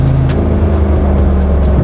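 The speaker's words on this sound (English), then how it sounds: "So the second he puts it in Sport Plus, you hear the throttles opening" A loud, close Brabus 800 Mercedes-AMG G63 SUV engine revs in Sport Plus mode with a deep, steady rumble and sharp bursts of throttle on top, with no speech.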